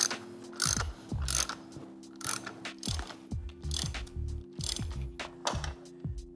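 Hand-cranked spring compressor being tightened on a Mazda NA Miata strut and coil spring, giving repeated ratcheting clicks in short bursts with brief pauses, close and moderately loud, with no talking.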